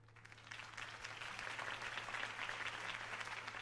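A crowd in a video game applauds steadily after a campaign speech, dense clapping over a constant low hum, fairly distant and evenly loud.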